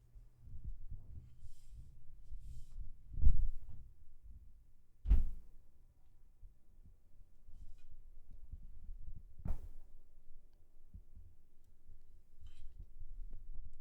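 A soft, low heartbeat-like thumping in a Legend of Zelda: Majora's Mask game session, irregular muffled pulses with a few stronger thuds standing out, quiet and close.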